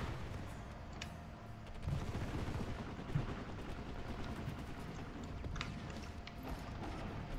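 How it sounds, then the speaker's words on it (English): The Carnage gun fires in Planetside 2 as a dense, steady run of battlefield shots. A few louder thumps stand out from the crackling din. "Dude, this Carnage gun is really accurate."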